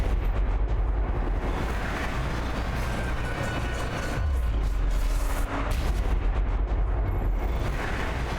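An explosion in the video game Deliver Us The Moon: a dense, continuous roaring rumble with heavy low-end boom, loud and sustained for several seconds without letup.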